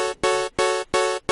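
A synthesizer pluck tone built in FL Studio plays four times in a steady rhythm, each note bright and sustained before cutting off, separated by short gaps of silence.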